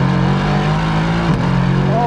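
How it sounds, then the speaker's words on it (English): A Mercedes-AMG GT R Roadster's V8 exhaust pulls hard under acceleration in first gear, a loud, close, rising engine drone with a brief dip as revs climb again. "let's get a listen to what this exhaust sounds like"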